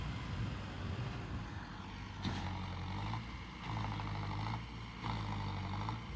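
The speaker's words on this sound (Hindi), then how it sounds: "अभी दूसरा ट्रैक्टर आया है, एक स्वराज" A Swaraj tractor engine runs while pulling out a stuck tractor with a chain, a steady low diesel drone that swells in three revving surges, moderately near with no talk.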